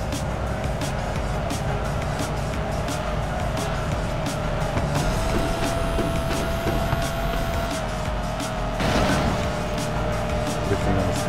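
Engine and tire noise from a car drifting along a straight road in the video game Driftpunk Racer, a steady dense roar with a rising whine and a brief surge near the end, mixed with game music.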